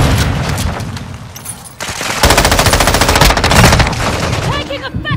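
Loud, close automatic gunfire from the video game Call of Duty Modern Warfare, sustained rapid bursts with a short dip before resuming even denser, layered with booming shots and brief shouted voices.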